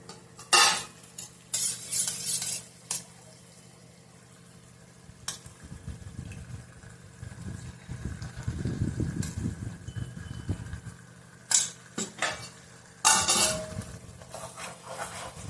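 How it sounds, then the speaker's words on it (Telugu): Mutton curry in a pot is stirred with a utensil, giving scraping and clinking strokes against the metal over a low bubbling simmer, with sharper bursts of scraping recurring through a steady background. "బాగా కలుపుకోవాలి."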